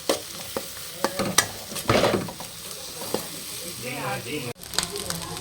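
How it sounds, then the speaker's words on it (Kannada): Cooked rice being stirred into egg rice in a frying pan, with scraping spatula strokes and clinks against the pan over a soft sizzle, close and moderately loud, ending with a sharp knock. "ಇಲ್ಲಿ ರೈಸ್ ಹಾಕೇನ್ರಿ ಮಿಕ್ಸ್ ಮಾಡಿಬಿಡೋಣ"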